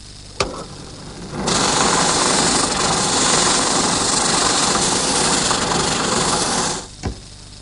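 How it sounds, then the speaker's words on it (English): A 2-inch drum sander mounted in a drill press hums at idle, then grinds steadily for several seconds as sharp wooden corners are sanded freehand, before dropping back to the motor's hum. "Now here I've installed a 2-inch drum sander in my drill press. And I want to use it to just knock off these sharp corners."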